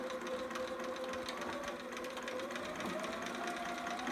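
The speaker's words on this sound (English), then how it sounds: "I'm gonna go ahead and straight stitch here" Steady, even whirring of a sewing machine running a straight stitch on a romper, quiet and continuous for the whole stretch without pauses or speech.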